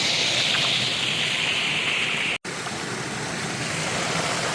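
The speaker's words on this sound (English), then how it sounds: "Little mini waterfall right here." Small trickling waterfall running steadily over gravel at a Southern California gold prospecting spot, a close, continuous wash of falling water that cuts out for an instant midway.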